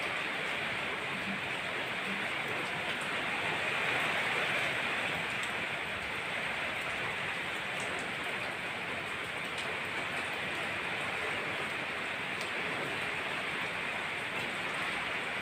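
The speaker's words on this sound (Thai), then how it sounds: "ฝนตก" Heavy rain falls in Thailand during a wait to see whether frogs come out, a faint, even, distant wash of steady patter filling the whole stretch without pauses or voices.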